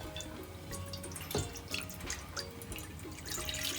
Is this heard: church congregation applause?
no